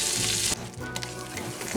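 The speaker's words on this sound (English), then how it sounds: "I'm going to put a couple of tablespoons of butter in this skillet." Butter sizzles in a skillet with a close, steady hissing crackle. It is loud at first and eases slightly after half a second, with faint stirring or clinking and no talking.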